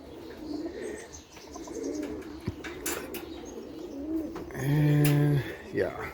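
Turner roller pigeons coo softly in a loft, with scattered chirps and one louder, near coo close by, and a person speaks faintly now and then.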